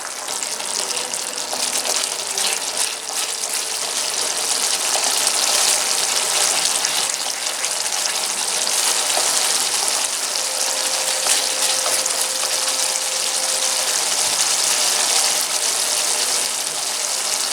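Tamarind extract simmers on a medium flame for homestyle puliyodharai, giving a steady, fairly loud bubbling hiss that runs unbroken from start to finish with no voices.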